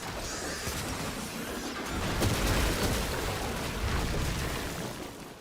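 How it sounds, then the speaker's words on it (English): Explosions rumble through Warframe combat, a dense, noisy roar of blasts and crashes swelling in the middle, loud and continuous with no talk. "Fucking explosions!"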